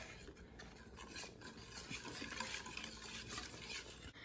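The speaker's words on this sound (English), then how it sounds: "what you want to do is mix it with the whisk" A whisk stirs pork chop marinade in a bowl for sous vide cooking, giving continuous close scraping and clinking against the bowl with a steady swishing rhythm and no talking.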